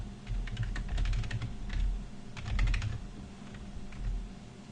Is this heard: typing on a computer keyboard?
yes